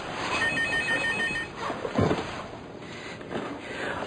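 A telephone rings in a dramatic indoor scene, giving repeated bright electronic trills in the first half before fading under background noise and muffled sounds.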